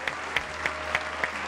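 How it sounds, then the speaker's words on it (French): A small audience applauds a wife and daughter at a French event, with five evenly spaced claps, each fairly sharp, over a low background hum. "On va les applaudir."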